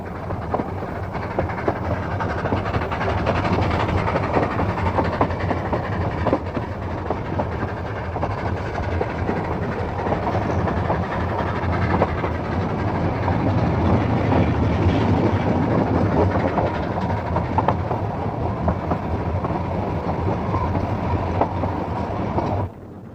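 A narrow gauge steam train on the Ffestiniog Railway in Gwynedd, Wales, runs along a spiral above a reservoir, a close, continuous rumble with rhythmic clatter of wheels on rails, steady for the whole stretch with no voices.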